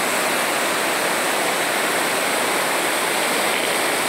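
Water pours over the spillway of the Acaraú Mirim dam in the Massapê backcountry of Ceará, Brazil, a loud, constant rushing roar like a waterfall, continuous and unbroken.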